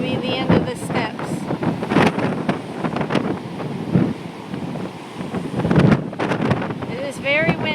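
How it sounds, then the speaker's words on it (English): Strong gusty wind from Hurricane Debby buffets the microphone on a beach with erosion, loud rumbling bursts rising and falling, with possible surf and voices mixed in. "It is very windy."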